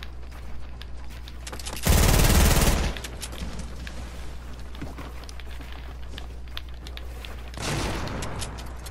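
Bursts of rapid automatic gunfire in a Fortnite Battle Royale duo match, with one loud sustained volley of about a second and a shorter, fainter burst later, over steady background game noise.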